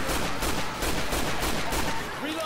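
Rapid bursts of video game gunfire crackle through the scene, dense and continuous shots at close range, with voices talking over the shooting.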